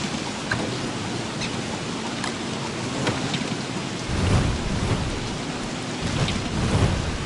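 Steady rain with rolling thunder in the game Don't Starve, a dense constant hiss with low rumbles swelling in the second half, no voices.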